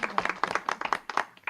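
Audience clapping at a school district board meeting, with a short burst of individual claps in an uneven rhythm, fairly faint and close.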